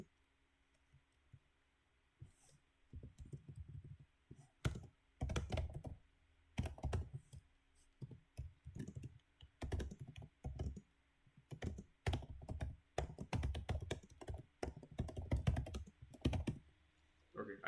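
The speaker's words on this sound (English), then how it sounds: "I typed here." Steady close typing on a computer keyboard while writing code, irregular bursts of clicky keystrokes with short pauses over a faint background hum, no talk.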